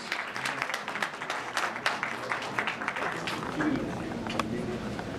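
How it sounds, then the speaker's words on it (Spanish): A conference audience at a phlebology meeting applauds a father and son sharing the panel, steady dense clapping running throughout beneath a voice. "Así es que un aplauso para ellos."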